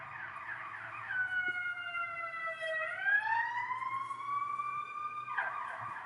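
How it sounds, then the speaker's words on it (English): Emergency sirens on a Los Angeles street, a wailing tone sweeping down and back up over steady traffic rumble, moderately distant, with no speech. "A lot of sirens around, friends. We have a lot of sirens around."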